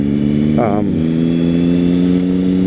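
A 2006 Triumph Speed Triple motorcycle holds a loud, steady engine drone, with a quick rise and fall in pitch suggesting a brief rev, close and continuous throughout with no talk.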